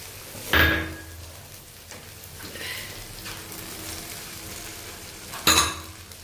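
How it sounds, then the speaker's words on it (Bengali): Pasta being stirred in a hot pan, a low steady sizzle broken by two loud scraping strokes of the spoon, one near the start and one near the end. "পাস্তাগুলোকে ভালো করে মিশিয়ে নিচ্ছি।"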